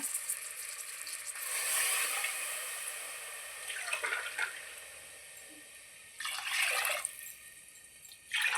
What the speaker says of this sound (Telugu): నాలుగు గ్లాసులు వాటర్ పోస్తున్నాను